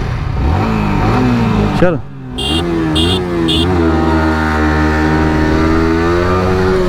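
A Pulsar NS200 OBD2 and a Yamaha R15 accelerate hard in a drag race on a runway, engines revving loud and close with rising, shifting pitch and a brief dip between gears, while a voice speaks briefly.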